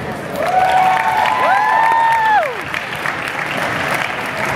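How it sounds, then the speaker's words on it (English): Applause and cheering from a crowd fill the room, steady and loud, with whistle-like tones sweeping over the clapping. "Could you all please give a big round of applause to Monica Thammarath."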